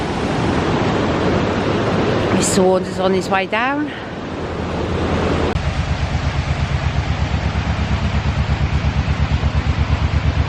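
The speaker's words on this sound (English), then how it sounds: "The water comes out with such a force." Water roars forcefully out of a canal lock as a narrowboat passes through, a loud, steady rush that fills the scene. A voice speaks briefly over it, and a rhythmic low throbbing emerges partway through.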